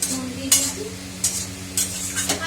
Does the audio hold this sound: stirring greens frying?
yes